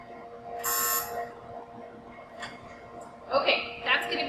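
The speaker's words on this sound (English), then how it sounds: "let's set the timer for 7 minutes." A kitchen oven timer set for 7 minutes gives a sustained electronic buzz, then a couple of short beeps, with voices faintly present.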